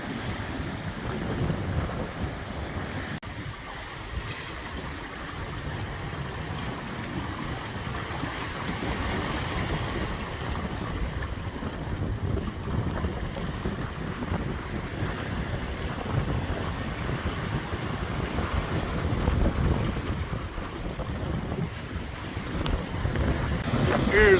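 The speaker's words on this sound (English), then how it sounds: "We were doing 9 knots a bit ago. We got 16 knots of wind." A sailboat runs on the Great Lakes in 16 knots of wind. Steady, loud wind buffets the microphone over a continuous rush of water along the hull for the whole stretch.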